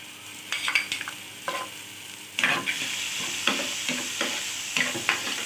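Vegetables for spicy Hakka noodles stir-fried in a pan, with a steady sizzle and repeated scraping stirs of the spatula at irregular intervals, close and moderately loud, no talking.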